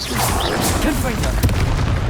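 A Confringo fire blast spell in Hogwarts Legacy erupts in a loud, continuous barrage of booming impacts and crackling blasts, heavy and close, with a sharper hit near the end.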